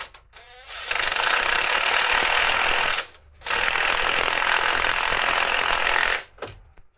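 Bursts from an air impact gun loosening bolts during a timing belt job on a Ford Focus ST 2.0 TDCi: two long, loud rattling runs of about two and three seconds, with short pauses between them and no talk.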